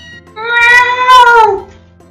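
A cat in the Pokémon Ultra Moon video game gives a single drawn-out meow, loud and clear, rising then falling over about a second and a half against quiet game background.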